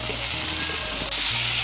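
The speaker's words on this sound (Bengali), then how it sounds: "এর মধ্যে আমি দিয়ে দিচ্ছি একটা মাঝারি সাইজের টমেটো কুচি" Chopped tomato tipped into a pan of frying potatoes and drumsticks, a steady close sizzle that jumps sharply louder and hissier as the tomato hits the oil, with no talking.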